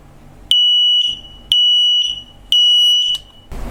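An X-Sense mini wireless interconnected smoke detector sounds its alarm, a loud, piercing high-pitched beep repeating in three evenly spaced pulses with brief gaps between them.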